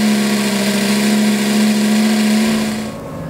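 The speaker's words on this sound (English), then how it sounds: "Just V10 idling behind you, a real thin rumble right through the body" A Lamborghini Gallardo Superleggera's V10 idles behind the cabin with the windows up, a steady thin rumble with a firm low hum that holds evenly, then eases off slightly at the end.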